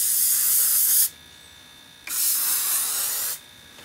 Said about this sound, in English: I'm going to take the hairspray and I'm going to lightly